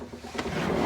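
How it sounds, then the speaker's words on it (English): A pull-out pantry drawer on 100-pound full-extension glides rolls open aboard a 2022 Nautica 34RX boat, giving a short, close sliding rumble with a brief knock partway through. "all pull-out drawers on full extension drawer glides"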